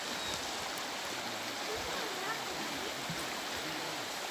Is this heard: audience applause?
no